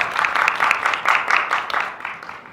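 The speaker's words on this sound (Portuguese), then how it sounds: "Vamos dar uma salva de palmas para o pessoal?" An audience at a sales seminar claps together in a short burst of applause, steady at first and then gradually fading out.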